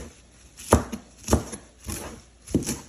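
Knife chopping ingredients for Zuppa Toscana soup on a cutting board, four sharp, evenly spaced thuds close by with a soft scrape after some, no talking.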